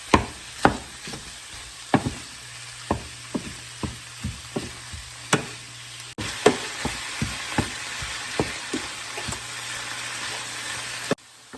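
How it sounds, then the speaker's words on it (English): Ground pork frying and browning in a pan, a soft continuous sizzle punctuated by regular sharp scraping and stirring clacks from a utensil, all close and without talk. "add some ground pork to this mixture now and let it cook and brown and everything get mixed together"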